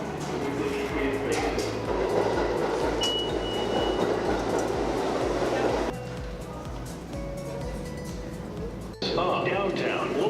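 A New York City downtown local 6 subway train approaching a station, a steady rumbling roar with rail squeal and clinks that drops off abruptly partway, then resumes with brighter screeching; a voice speaks over the noise.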